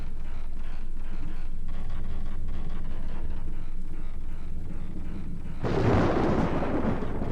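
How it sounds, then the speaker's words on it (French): Magic lightning with a loud thunder crack in the horror video game Project Zero 2: Crimson Butterfly, a low rumbling bed that bursts into a bright, crackling burst near the end. "Petits éclairs magiques."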